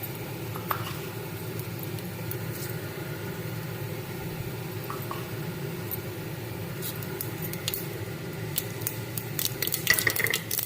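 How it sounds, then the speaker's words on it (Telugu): Urad dal and mustard seeds fry in oil for a green peas curry, giving a low, steady sizzle with scattered faint pops and occasional stirring clicks that grow a little busier toward the end. "అవి ఫ్రై అయిన తర్వాత ఇలా ఫ్రై అవ్వాలి."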